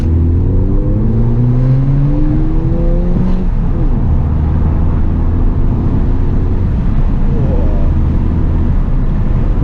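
A Ford Fiesta ST with a 240 brake horsepower engine is revved hard in second gear from inside the cabin, a loud rising engine note climbing sharply, easing off and then building again.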